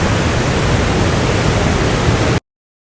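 Momoko Great Waterfall in autumnal Tohoku, Japan, a loud, dense, unbroken roar of rushing water heard up close that cuts off abruptly before the end.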